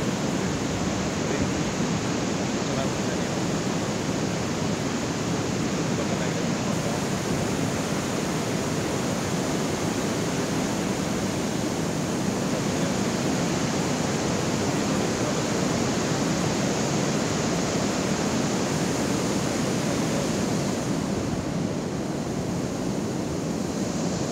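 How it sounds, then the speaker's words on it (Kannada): Strong wind roars steadily and loudly with no break over the crest gates of Bhadra Dam, a broad rushing noise buffeting the microphone throughout. "ತುಂಬ ಗಾಳಿ ಇದೆ, ತುಂಬ ಫ್ರೆಶ್ ಗಾಳಿ ಸಿಗ್ತಾ ಇದೆ"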